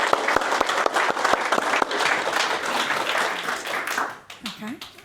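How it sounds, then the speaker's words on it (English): Audience at an Agile Yorkshire meetup talk bursts into sustained, dense applause with sharp individual claps, fading around the fourth second as a voice begins speaking. "So please give her a secondary massive round of applause."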